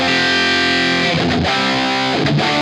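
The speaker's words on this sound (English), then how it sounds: "which is the tube screamer into the OD sound" An electric guitar plays through a Keeley Noble Screamer pedal, a tube screamer stacked into an overdrive, giving a thick, sustained distorted chord with a couple of brief rhythmic chops, loud and alone.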